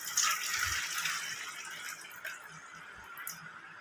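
Water runs and splashes as thinly sliced potatoes are rinsed and drained in the kitchen, a steady close hiss of flowing water with a few small clatters and drips.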